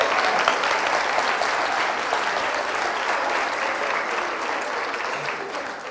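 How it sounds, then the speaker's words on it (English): Sustained applause from an audience at a women's church gathering, a dense, steady wash of clapping that fills the whole stretch at a fairly loud, even level before easing slightly at the end. "Clap for her."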